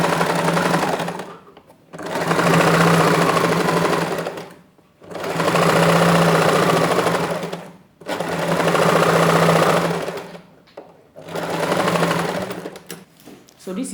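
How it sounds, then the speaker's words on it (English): A sewing machine runs in four steady, loud bursts as it top stitches a seam on a woman's trousers, each whirring run lasting a couple of seconds, separated by short pauses. "right now I will top stitch here"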